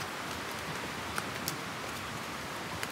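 Water flowing downhill in a Konkan stream, a faint, steady broadband rush with a few soft ticks, heard from a distance without talk.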